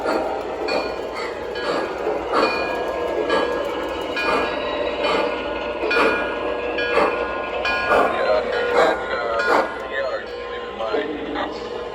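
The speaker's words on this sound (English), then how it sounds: "Okay, we're gonna pull into the station." A small O gauge model train rumbles and clicks along the track into a station with rhythmic clatter, while people talk over it.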